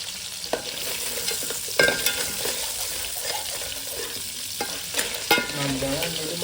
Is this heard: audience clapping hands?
no